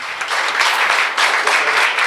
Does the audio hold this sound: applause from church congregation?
yes